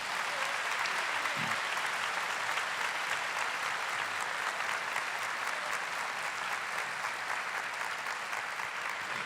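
Catholic congregation at Mass applauding in praise of the Church, a loud, uniform roar of many hands clapping that holds steady for the whole stretch.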